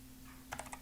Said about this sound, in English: I'm just typing netstat.